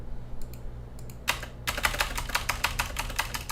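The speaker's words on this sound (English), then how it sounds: "I'm typing" Rapid typing on a computer keyboard during a JavaScript game-coding session, a few sparse key clicks at first, then a dense, continuous clatter of keystrokes, close and fairly loud with no voices.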